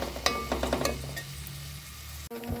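Food frying in a pan on high flame while being stirred until brown, a close, steady sizzle with rhythmic scraping and light clinks of the spoon against the pan, no voices.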